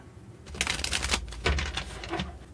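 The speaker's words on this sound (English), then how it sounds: "So let's do a few more shuffles and let's begin." Tarot cards being shuffled up close, a rapid flurry of crisp riffling snaps that swells and fades over a couple of seconds with no voice over it.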